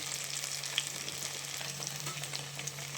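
Small shallots sauté in a pan for poondu kulambu, giving a continuous close sizzle with faint crackles and light stirring and a steady low hum beneath.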